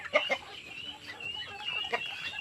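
Chickens in a small backyard coop cluck softly and intermittently, with several short bursts from a few birds at moderate distance over a quiet background.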